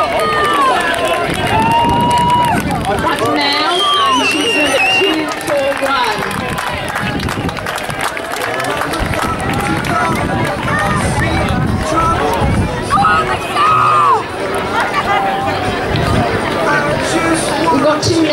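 A crowd cheers and claps steadily as runners come in to the finish of the Bradley Stoke race. The noise stays loud and busy throughout, with an announcer talking over it.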